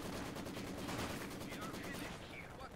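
Rapid machine-gun fire from a Maxim gun in Company of Heroes 2, a dense, steady rattle of close-range bursts that fills the whole moment, with battle noise layered underneath.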